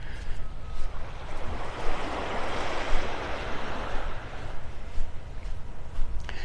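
Ocean waves wash ashore on Vanderbilt Beach in North Naples, Florida, a continuous surging hiss of surf that swells and recedes at a steady moderate loudness, with a light wind rumble and no talking.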